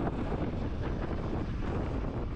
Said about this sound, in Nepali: हावा पनि सरर चिसो हावा